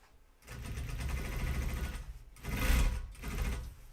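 A sewing machine stitches jeans with navy blue thread in three bursts of whirring, with short pauses between them, close and moderately loud.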